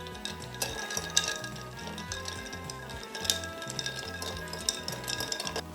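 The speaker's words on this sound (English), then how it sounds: "bar spoon in, nice stir" A bar spoon stirs a Sangaree cocktail of ruby port wine over ice, giving a quick rhythmic run of light clinks and rattles, close and continuous, under a faint low background hum.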